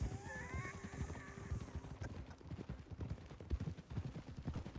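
Horse hooves clip-clopping at a steady gallop in the Western video game Red Dead Redemption 2, a fairly quiet rhythmic drumming of many quick hoofbeats with a faint whinny early on, continuing without pause.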